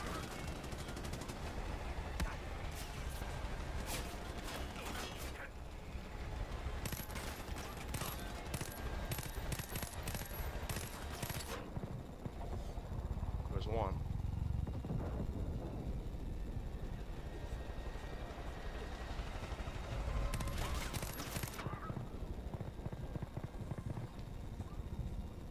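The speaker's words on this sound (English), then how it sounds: "there's fucking two helicopters just going ham at me" In the video game Far Cry 5, two helicopters rain gunfire in long rapid machine-gun bursts and scattered shots, with rotor and engine noise, explosions and a brief lull between loud volleys.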